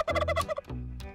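Turkeys on a small backyard farm in Arizona gobble in a quick rattling burst, followed by a lower drawn-out call, close and clear with no talking.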